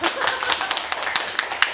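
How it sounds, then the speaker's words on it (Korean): A short burst of hand clapping from a small group at a talk on enneagram personality types, scattered claps with sharp taps close by, along with a faint murmur of voices. "박수"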